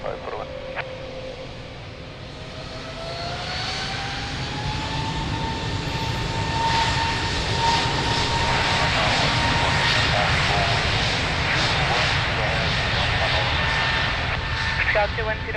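At Lisbon Airport a fixed-wing airplane's engines roar as it spools up for takeoff, a loud sustained whine rising in pitch over steady broadband thunder, with faint voices underneath.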